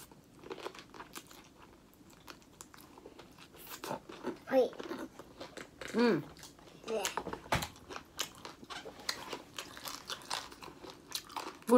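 Close, crisp crunches and bites of KFC spicy chicken cartilage dipped in Samyang hot sauce, coming in irregular bursts with short pauses between them.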